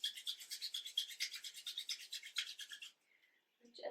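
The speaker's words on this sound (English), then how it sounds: "Begin to rub your palms together, nice and fast." Palms rub together quickly in a yoga session, producing a close, soft, rhythmic swishing of about a dozen rapid strokes that stops abruptly near the end.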